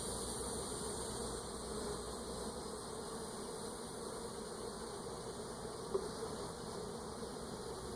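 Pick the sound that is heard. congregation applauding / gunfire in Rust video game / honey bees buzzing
honey bees buzzing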